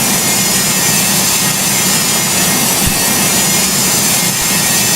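Boeing 727 jet engines at takeoff thrust in the Project Flight game, a loud, unbroken broadband roar holding steady throughout with no voices.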